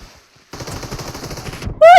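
Automatic gunfire in a video game: a sustained burst of rapid shots after a brief quiet start, ending with a loud, sharp final blast close up, with no talk over it.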